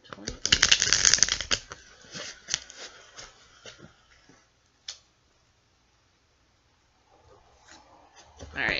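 Tarot cards being shuffled up close, a dense flurry of riffling and snapping at the start that thins to a few scattered taps, then near silence before faint rustling returns.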